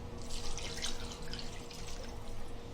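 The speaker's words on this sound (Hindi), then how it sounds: "1 गिलास पानी डाले हमने।" A glass of water is poured into a pot of chicken zafrani korma, giving a soft continuous splashing and trickling heard close and alone for a few seconds.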